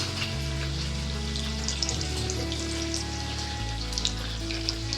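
Round fasting-snack balls drop into hot oil in a kadai and fry with a loud, dense sizzle that crackles steadily throughout, with small pops scattered over a low background hum.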